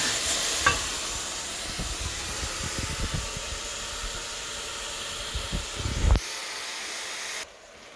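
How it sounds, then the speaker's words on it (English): Kale steams and sizzles in a hot pan just after deglazing: a steady, loud hiss with occasional stirring scrapes runs for several seconds, then cuts off abruptly near the end. "So that'll just deglaze the bottom of the pan and kind of steam up the kale a little bit."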